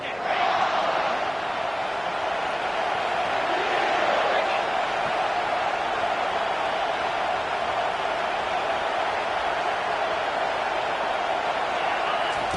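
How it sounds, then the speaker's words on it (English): A college football stadium crowd roars continuously and loudly, a dense, unbroken wall of cheering that shakes the structure while the home defense takes the field, with no pauses over the whole stretch. "Listen to this crowd just shaking the girders of this place, trying to help their defense."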